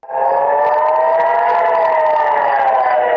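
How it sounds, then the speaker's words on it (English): A civil defense air raid siren wails loudly and steadily across northern Israel during rocket barrages, one sustained rising tone with no speech. "Hezbollah rocket barrages triggered sirens across northern Israel overnight and early Sunday morning"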